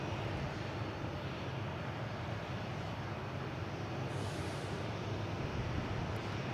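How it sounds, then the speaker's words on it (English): A jet airliner roars steadily at Boston Logan International Airport during takeoff, a loud, continuous broadband engine rumble heard from nearby with no talking. "This will be takeoffs now."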